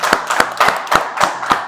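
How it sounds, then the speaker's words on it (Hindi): Brief applause at a gym's grand opening, a short burst of about six sharp, evenly spaced claps close by, with no talk over them. "तालियां भाई।"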